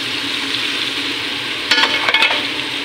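Chicken fries in a pan with mushroom for fettuccine, a steady close hiss of sizzling oil, with a few brief scraping stirs of a utensil against the pan near the end.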